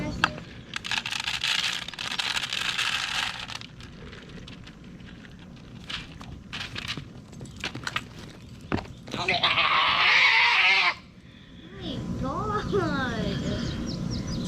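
A goat bleats several times up close, short wavering calls between rustling and handling noises, with a person talking at times.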